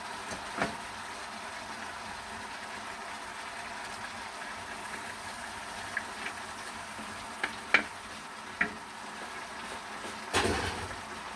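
Fish is added to a hot pot of cooking onions, giving a steady, quiet sizzle with a few soft clinks and a louder scrape near the end.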